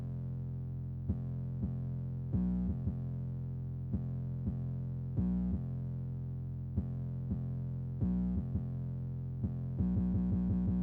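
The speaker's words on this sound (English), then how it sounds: "The sound that I used for the 808 is this sound right here" A deep 808 bass synth with its attack time raised and output turned down plays a repeating pattern of sustained, distorted notes with short pitch glides, ending in a quicker burst of rapid notes, heard alone with no other instruments.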